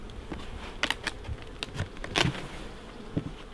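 Honey bees buzz around an opened beehive, a soft, close drone broken by scattered light taps and knocks as the frames and lid are handled, with no talking.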